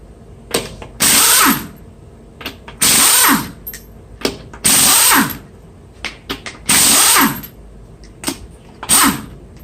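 An impact wrench rattles off the lug nuts of a Hyundai Santa Fe wheel in five loud bursts of about a second each, with clicks and clunks of handling between them, close up.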